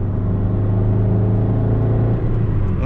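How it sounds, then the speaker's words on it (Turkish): A Rover 214 Si with a 103-horsepower engine accelerating gently in third gear from about 20 km/h: a steady, loud, close engine drone with a low hum and droning harmonics, heard inside the car without talk. "şu an 3. viteste 20 ile giderken bile hafif şöyle bir gaza basayım"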